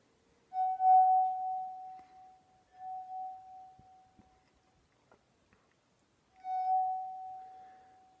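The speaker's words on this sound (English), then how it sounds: "the effects of air and water on a simple glass" A sustained ringing glass tone hums steadily, fading out, then a few soft taps and clicks, before the clear singing tone swells back in.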